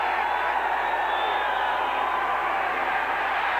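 A stadium crowd at a 1988 Detroit at Tampa Bay football game roars in a steady, dense wash of screaming and cheering that holds evenly throughout, loud and continuous with no breaks.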